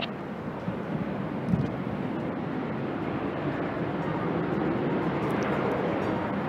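Patrouille de France jets take off together at the Paris Air Show at Le Bourget, a broad, steady roar of jet engines with a wind-buffeted wash, loud and sustained.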